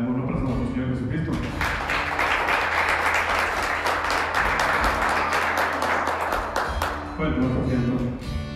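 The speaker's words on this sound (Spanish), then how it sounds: "Le damos un aplauso a nuestro Señor Jesucristo." A church congregation claps in a dense, sustained round of applause, with a voice speaking before it starts and again as it fades.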